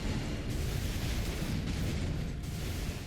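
An Earth Shatter combo in Elden Ring Shadow of the Erdtree sends out a dense, continuous roar of explosive rumbling with repeated bursts layered over a constant heavy wash of noise.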